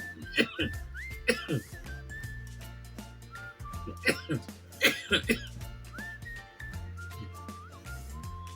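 Several sharp coughs break out in bursts, close and loud, between stretches of background music with whistle-like melodic tones.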